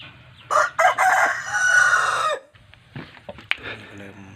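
A young rooster about 7 to 8 months old gives a loud, close crow lasting nearly two seconds, followed by softer clucks and rustling.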